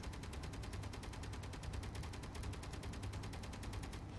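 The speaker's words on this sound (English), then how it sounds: "Oh, no, it's shooting at the constructor." Turret gun in the Space Engineers game firing a fast, even stream of rapid shots, each crack evenly spaced in a continuous burst lasting a few seconds, heard alone.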